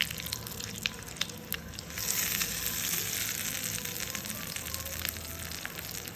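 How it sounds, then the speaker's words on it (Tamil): Mustard seeds and curry leaves sputter in hot oil for an onion chutney tempering, with a steady close sizzle that swells into a louder, brighter hiss partway through. "கடுகு கருவேப்பிலை போட்டுட்டு தாளித்து கொட்டினா இதோட வேலை அவ்வளோதான்."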